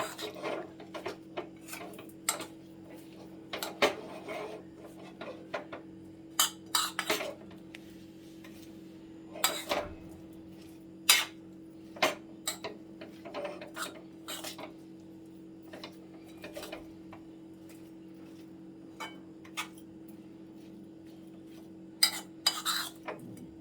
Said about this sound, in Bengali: এবার এটাকে একটু আবার নাড়িয়ে দিচ্ছি।